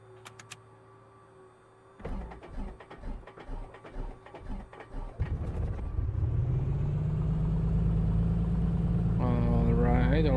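Switch clicks and mechanical rattling come first, then a piston aircraft engine in a flight simulator catches and settles into a steady idle near 1000 RPM, humming on as someone speaks briefly near the end.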